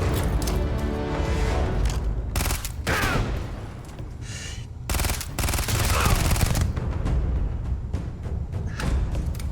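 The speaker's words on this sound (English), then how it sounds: "Just keep shooting!" Rapid automatic gunfire rattles nearly nonstop through a Starfield video game battle. The shots are loud and dense, mixed with heavy thuds and brief gaps.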